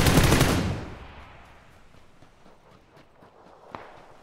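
Enemy gunfire in a video game erupts as a loud, dense burst that quickly dies into a low rumble, followed by a quieter stretch with scattered faint impacts and one sharp crack near the end.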